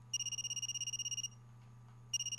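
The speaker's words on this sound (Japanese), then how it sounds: "また非通知電話。" A phone rings with an anonymous call in a Japanese horror game: a rapid electronic trill in two bursts separated by a brief pause, clear over a low steady hum, with no talking.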